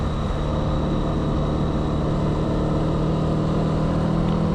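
A Honda CB300R motorcycle cruises in fifth gear, its engine a steady, loud drone mixed with wind rush that holds constant from start to finish.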